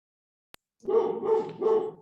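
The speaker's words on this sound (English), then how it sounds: "Sorry about my dog in the background." A household dog barks three times in quick succession after a brief click, close and fairly loud in an otherwise quiet room.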